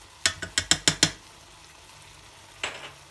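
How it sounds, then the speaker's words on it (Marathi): Ridge gourd curry with toor dal and red chilli powder being stirred in a pan: six quick scraping strokes in a row, then a pause and one more scrape, close and moderately loud over a faint sizzle. "चांगलं पुन्हा एकदा चांगलं ढवळून घ्यायचं आहे।"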